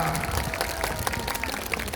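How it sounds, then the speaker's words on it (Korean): Church congregation applauding to welcome a deaconess of Jungmun Church onto the stage, a steady wash of clapping with crowd noise and a faint voice underneath. "이 권사님을 모시겠습니다. 박수하겠습니다"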